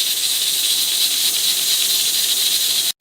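A pressure cooker of mutton curry vents steam after the stove is switched off, giving a steady, loud, bright hiss that holds evenly for about three seconds before cutting off abruptly.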